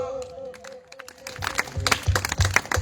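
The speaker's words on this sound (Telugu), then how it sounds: "గట్టిగా చప్పట్లు." A congregation at a church revival meeting breaks into loud clapping that builds into rapid, dense applause, with a voice heard faintly before it starts.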